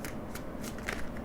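Tarot cards riffle and slide against each other in a short, close shuffle, a few soft flicks and snaps over a low room hiss.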